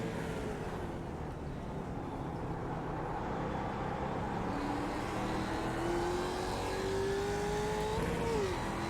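Racing cars battle for position on a circuit, their engines forming a loud, steady drone with one engine's pitch climbing clearly near the end as it accelerates.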